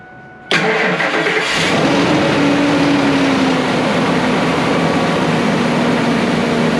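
A truck engine cranks and starts after power steering fluid is added, then settles into a loud, steady idle that runs on without a break.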